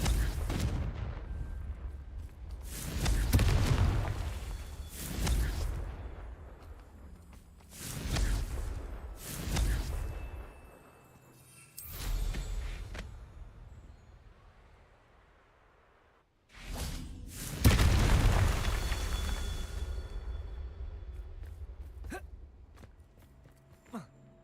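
Repeated Confringo fire spells explode in Hogwarts Legacy, a series of five or six loud, booming blasts spaced a few seconds apart, each decaying into rumble, with a brief near-silent gap before the final heavy burst.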